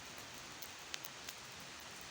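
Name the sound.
light rain starting to drizzle outdoors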